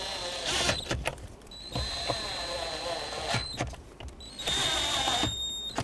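A power tool drives three screws into the lower steering column cover of a 2005-2010 Pontiac G6 during a combination switch replacement, giving several short whirring bursts close by with pauses between them.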